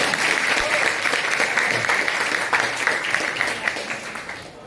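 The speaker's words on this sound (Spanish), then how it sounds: "Aplausos, por favor." Listeners at the Celsius 2025 presentation of a novel applaud loudly and continuously, a thick wash of clapping holding steady for several seconds and thinning slightly at the end.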